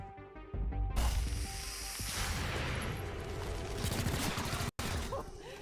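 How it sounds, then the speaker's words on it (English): Gunfire in the tactical game XCOM: Chimera Squad, a dense loud burst of shots and crashing impacts that starts abruptly and continues as a rolling barrage, with a brief cut near the end. "I'll shoot at anything that moves."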